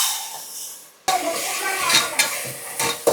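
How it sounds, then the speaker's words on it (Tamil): Onions frying and sizzling in a pan at home while being stirred, with a steady hiss and several scraping stir strokes after a short quiet start. "இப்போ வெங்காயம் நல்லா கொஞ்சம் வதங்கிடுச்சு."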